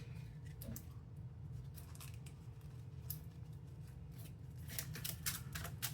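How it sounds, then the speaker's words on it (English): Board game cards for Banish the Snakes are shuffled: quiet, scratchy riffling clicks and rustles that come in bursts, denser toward the end, with no voices. "we take these cards and we shuffle them into here"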